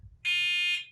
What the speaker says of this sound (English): The alarm will sound, and for your protection is very loud.